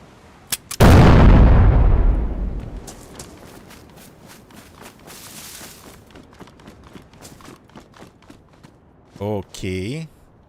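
Grenade explosion in DayZ during a survival base raid, one loud booming blast that rolls off over a couple of seconds, followed by scattered rustling and clicks and a short burst of voices near the end.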